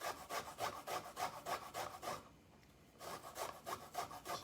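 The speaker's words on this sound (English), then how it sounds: "It's mostly gonna gather on the bottom of your microplane. So just keep grating" Ginger is grated on a microplane over a cutting board, giving rapid rhythmic rasping strokes up close. The scraping pauses briefly, then resumes at the same quick back-and-forth pace, and no one talks.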